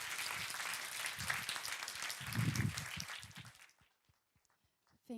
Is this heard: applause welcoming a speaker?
yes